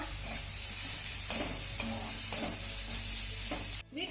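Sautéed vegetables sizzling in a pan as salt is stirred in, with soft repeated scraping strokes over a continuous frying hiss and a brief clatter at the end.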